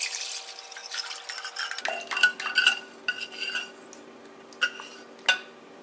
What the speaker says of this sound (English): I'll add this blend to the saucepan.